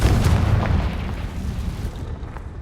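Confringo fire spell blasting in Hogwarts Legacy, a loud booming explosion with a deep rumbling low end that swells at the start and rolls on through the whole stretch.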